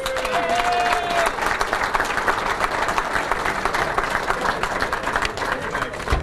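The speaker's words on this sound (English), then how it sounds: "I also want to give all the award winners one last round of applause." Banquet audience at a sports hall of fame dinner breaking into sustained applause, dense steady clapping from a large crowd filling the room for about six seconds, with a brief tone and faint voices early on.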